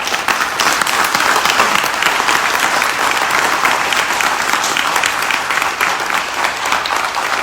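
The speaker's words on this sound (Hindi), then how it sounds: "आपके लिए जोरदार तालियां।" A large crowd applauds loudly for a speaker on stage at a rally in Delhi, giving a dense, sustained wash of clapping that continues without a break.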